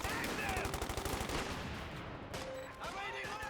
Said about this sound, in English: That must have been the mortar hitting the Pioneers.